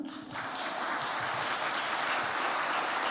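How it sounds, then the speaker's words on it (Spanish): A church congregation applauds for the Lord during a sermon, a dense, steady wash of clapping that rises quickly and holds loudly throughout. "¿No le vas a dar un aplauso al Señor?"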